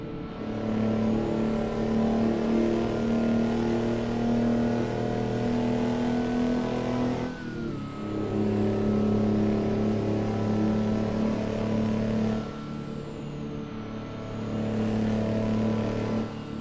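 A large truck engine of about 14 liters in American Truck Simulator drones and revs steadily, dipping briefly twice before climbing back, loud and continuous with no talking.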